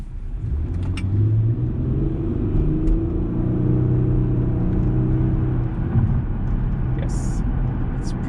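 A 2010 Nissan Maxima 3.5 sedan on the move gives off a loud, steady low engine rumble and road roar, with a smooth whirring tone that swells and climbs as it accelerates, plus a few faint clicks over the continuous drone.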